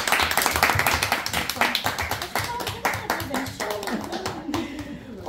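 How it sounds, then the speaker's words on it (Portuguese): A group of people at a family gift-giving gathering claps hands in a brisk burst of applause that fades out, close by, with voices talking over and after the clapping. "Merece as nossas palmas, com certeza."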